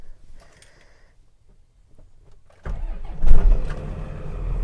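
A cold diesel truck engine cranks and catches after a quiet wait with faint clicks, then roars into a rough, loud idle up close.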